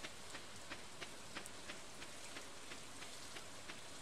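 Steady rain falls in the Stardew Valley farming game, a soft continuous patter with faint, evenly spaced droplet ticks, no voices.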